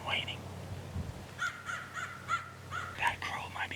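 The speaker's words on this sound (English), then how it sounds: "That crow might be crowing at him." A crow caws repeatedly in the Colorado Rockies during a spring turkey hunt, a string of harsh calls spaced through the clip at moderate distance, with quiet outdoor background and faint low whispering.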